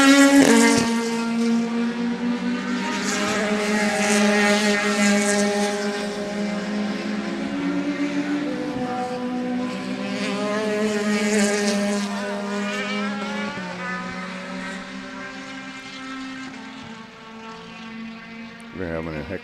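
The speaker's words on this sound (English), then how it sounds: "Let us know if you can hear the race cars." Race cars at Sebring circuit make a continuous, fairly loud engine drone that rises and falls in pitch as cars power along the track, heard from a distance without break.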